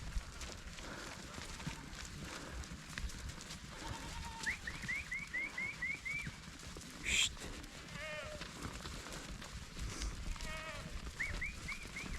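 A flock of sheep grazing on a snowy mountain, with several distant bleats rising over steady wind and rustling, while a person speaks quietly in the background.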